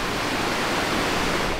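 Stream flowing right beside a hotel room in Rize, a steady broadband rush of water, loud and constant, with no voices.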